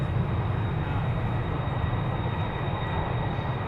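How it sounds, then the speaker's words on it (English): Airbus A330 jet engines roar loudly and steadily during departure at Amsterdam Schiphol, a dense, continuous low rumble filling the whole clip with no talk. "the audio is taken over by the engines of the A330 here"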